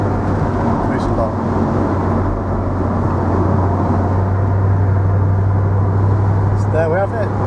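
A 2003 Mercedes SL55 AMG V8 cruises along country roads on a summer day, its engine a steady, even low rumble and road drone that holds throughout without any sharp revving.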